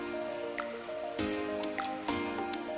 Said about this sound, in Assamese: বৰষুণ দিছে আৰু ৰ'দো দিছে